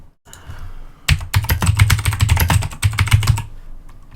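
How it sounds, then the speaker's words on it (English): Rapid, crisp clacking of keys on a computer keyboard, a short burst of steady typing after a brief pause, close and fairly loud. "that keyboard sounds great"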